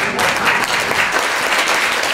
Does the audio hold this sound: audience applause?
yes